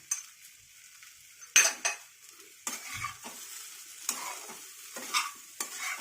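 A spatula scrapes and clatters in a pan as ground Kashmiri chili, cumin, coriander and sugar are stirred into hot oil for a pui shak dish, in irregular strokes against a soft sizzle.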